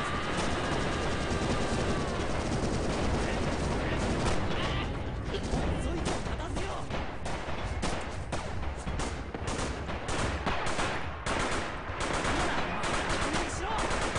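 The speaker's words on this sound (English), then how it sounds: "the commander has just called in some artillery. As you can see, there are some suppression effects from the heavy machine guns here." Artillery barrage and heavy machine gun fire in the Stalingrad-era shooter Red Orchestra 2, a dense, unbroken wall of rattling bursts, booming impacts and crackling gunshots, loud and close throughout.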